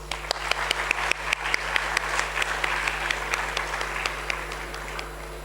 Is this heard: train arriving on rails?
no